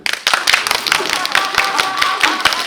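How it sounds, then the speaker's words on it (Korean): Audience applause at a film screening with a Q&A session, a brisk run of many hands clapping close by that holds for the whole stretch while a voice talks over it. "오늘 박수를 너무 많이 받네요"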